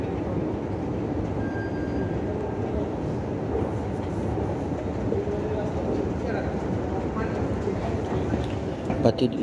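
A Riyadh metro train running toward the airport gives a steady, loud rumble and rail roar throughout, with faint clatter toward the end.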